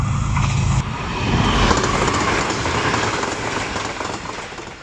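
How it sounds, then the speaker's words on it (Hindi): The Green Line Express pulling into Sadhoke railway station: a loud, close rumble of a passing train with rhythmic wheel clatter over the rails, steady for about five seconds. "खामोशी को तोड़ने के लिए आ रही है ग्रीन लाइन एक्सप्रेस"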